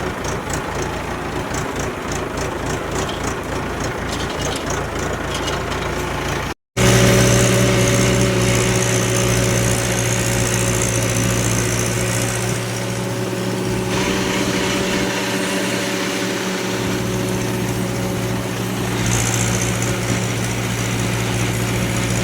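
A running 275 tractor engine drones steadily and loudly up close, a continuous mechanical hum with a brief cut partway through, and no talking.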